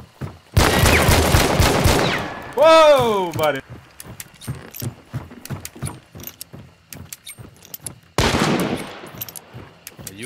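Video game gunfire erupts in two loud, sustained automatic bursts, one near the start and another near the end, with scattered single shots and clicks between them and excited voices talking over the action.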